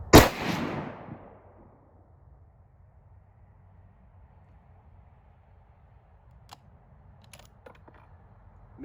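A Ruger M77 chambered in .250 Savage fires a single hand-loaded round at the start, a sharp loud report that decays over about a second into outdoor quiet, followed by a few faint clicks.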